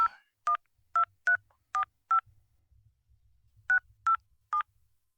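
A series of crisp touch-tone dialing beeps, six in quick succession, a pause, then three more, clear and close against near silence.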